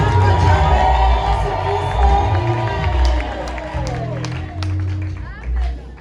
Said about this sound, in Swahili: Chapa makofi kwa wageni wote kwa jina.